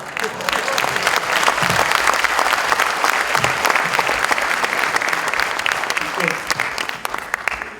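Audience applause fills a hall, a dense, loud, sustained clapping from a large crowd that continues steadily throughout without a break.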